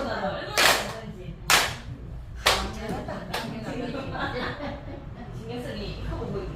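A few sharp hand claps ring out in a fitness class, spaced roughly a second apart and followed by softer scattered claps, with a voice and light room noise underneath.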